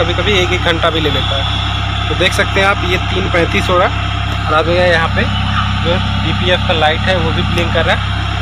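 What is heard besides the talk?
Tata Ace Gold BS6 engine running during DPF regeneration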